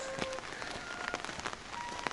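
Rain falling on a morning in Dharamshala, a steady dense patter filling the whole stretch with a few brief tonal chirps over it.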